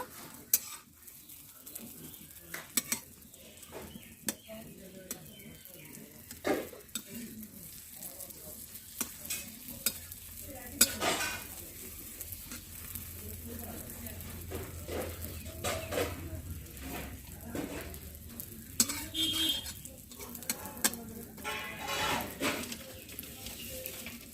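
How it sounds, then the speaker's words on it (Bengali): An egg omelette is rolled in a frying pan with a spatula, giving a soft, steady sizzle along with scattered scrapes and clinks of metal on the pan, heard up close. "এরকম ভাবে ডিমটা রোল করে নেব।"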